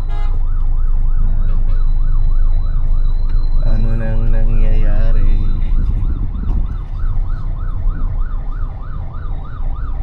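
A loud wailing ambulance siren cycles steadily over heavy traffic noise in Metro Manila, with a blaring horn-like tone midway and a voice speaking briefly.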